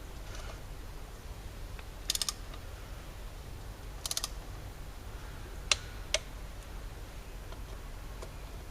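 Torque wrench clicking while tightening the front brake disc bolts on a 1992 Yamaha XJ600S Diversion motorcycle: a few sharp, faint clicks spaced apart over a low steady background hum.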